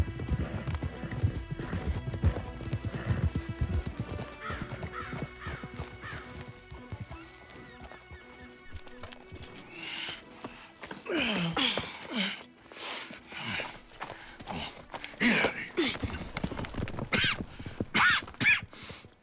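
Horses in the Red Dead Redemption 2 video game clop their hooves steadily in a dense rhythm at first, then snort and whinny amid rustling and scattered impacts in the later half.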